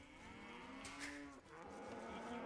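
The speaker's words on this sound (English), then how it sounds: "We have a jiggling cow" A cow moos in the Age of Empires 2 strategy game: one drawn-out, fairly loud low moo that sags in pitch and breaks off, then picks up again, with no talking over it.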